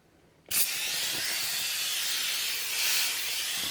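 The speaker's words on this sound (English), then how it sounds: "Spray that down." A sudden, steady hiss of glass cleaner spray starts abruptly and continues strongly for several seconds, broad and close, with a brief swell near the end.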